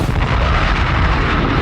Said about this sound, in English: You hear the bomb?